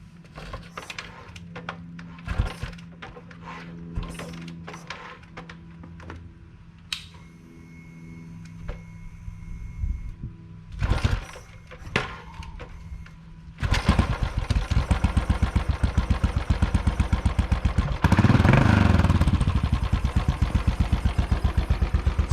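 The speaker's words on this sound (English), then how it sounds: "I have never ever had an issue kickstarting this bike" A Royal Enfield Continental GT 535 single-cylinder motorcycle is kickstarted: a few scattered clunks and thumps from the kick lever, then the engine catches and settles into a loud, steady, rapid thumping idle close by.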